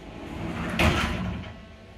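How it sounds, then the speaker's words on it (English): A white shower-tray enclosure's door sliding open or shut, a single smooth swish with a light bump near the middle, close and alone in a quiet bathroom. "good condition, closes and opens smoothly"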